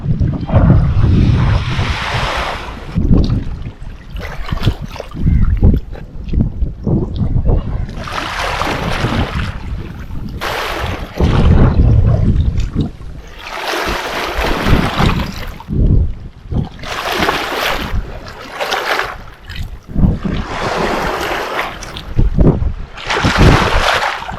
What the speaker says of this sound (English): listen to the sound of the waves of the river and just enjoy here